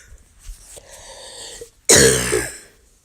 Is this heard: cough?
yes